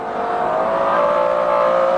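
McLaren F1 with its 627-horsepower V12 accelerating hard around the Goodwood racetrack, a loud, close, sustained engine howl that keeps climbing steadily.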